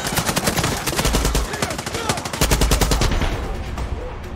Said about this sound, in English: I love this grenade launcher.